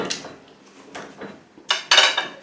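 A knife slicing down through the crispy top crust of a homemade pie, giving several short crunchy scrapes and crackles, with the loudest cuts near the end.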